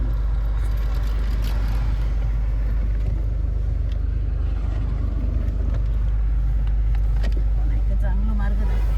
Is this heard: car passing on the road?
yes